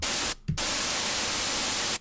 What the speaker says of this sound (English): And so that's now generating white noise.